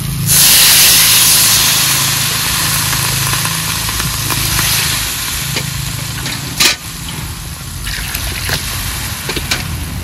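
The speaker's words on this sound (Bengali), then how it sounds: "ঝোল তো ফোটা শুরু হয়ে গেছে।" A broth of moringa drumsticks and fresh pond fish bubbles in a pan: a steady, close hissing simmer with soft bursts, and one sharp metallic clink partway through.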